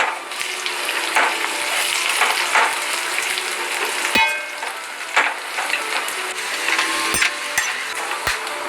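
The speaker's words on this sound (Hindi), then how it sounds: "अब जो कड़ी पत्ता है वो हमें इसमें डाल देना है।" Curry leaves hit hot oil with golden brown onions, crackling and sizzling steadily nearby, broken by sharp clinks of a spoon against the pan.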